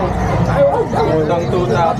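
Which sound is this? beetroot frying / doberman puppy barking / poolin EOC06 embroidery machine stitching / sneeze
doberman puppy barking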